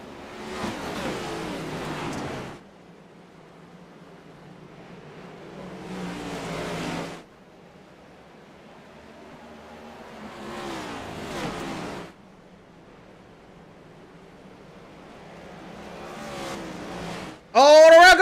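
Dirt race cars in a sim racing video game at Bristol sweep past in several loud bursts separated by quieter gaps, with a commentator speaking over the engine noise.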